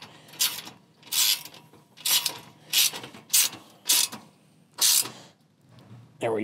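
Bolts being tightened down on a rickshaw cargo trailer subframe, with a run of about seven quick ratcheting bursts in steady rhythm, close and fairly loud, no talk over them.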